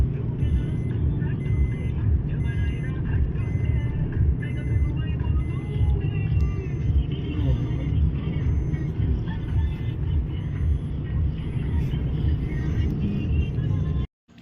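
Car driven on a road by a young new driver, a steady low engine and tyre rumble from inside the cabin that continues throughout before cutting off at the end.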